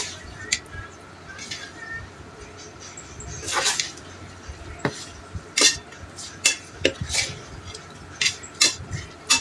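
Fenugreek, black cumin and leaves stirred in a pot of homemade herbal hair oil, with sharp scraping and clinking of a spoon against the metal pan in irregular bursts over a low background.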